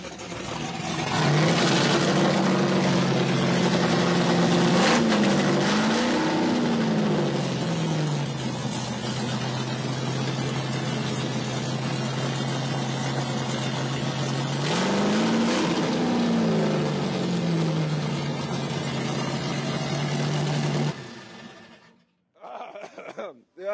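Loud custom car engine at a SEMA Show build event fires up and settles into a heavy, steady idle, with two rising revs partway through, close and dominant, before cutting off abruptly near the end.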